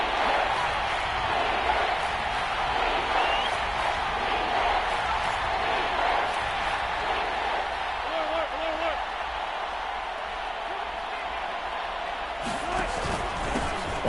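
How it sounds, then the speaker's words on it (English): Stadium crowd roaring steadily in a football video game, a dense, continuous cheer building ahead of a big third down, with commentary over it. "The crowd getting into it as we come up on a big 3rd down."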